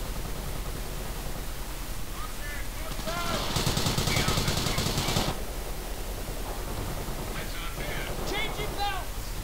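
A short burst of assault rifle fire crackles out in the middle of a Company of Heroes battle, rising above a constant hiss of background noise. Faint chirps and other game effects follow afterward.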